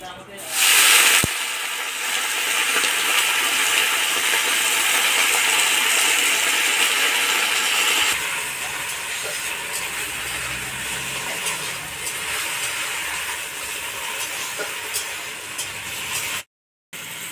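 Washed jute leaves go into hot oil with fried garlic in a home kitchen, setting off a loud, close, continuous hiss and sizzle that stays steady throughout and eases slightly partway through.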